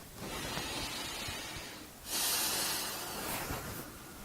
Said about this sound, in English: I just take deep breaths